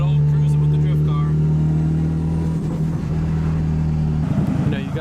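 A Nissan 350Z drift car cruises with a steady low engine drone and strong harmonic hum, fairly loud and continuous, with a slight rise in activity near the end and a voice talking over it.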